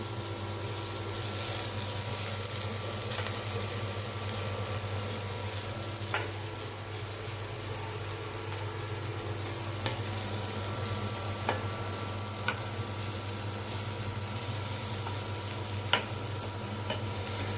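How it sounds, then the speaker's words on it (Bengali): A few dried red chilies fry in a pan, giving a continuous close sizzle with occasional light scraping and stirring clicks over a low steady hum. "আমি একদম শুকনো মরিচ কয়েকটা ভেজে নিচ্ছি"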